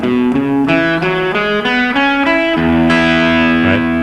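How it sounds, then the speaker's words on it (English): An electric guitar with distortion and effects runs through the major pentatonic scale in open position, notes stepping steadily upward one after another and ending on a held, ringing tone, loud and close. "That's the sound of the major pentatonic."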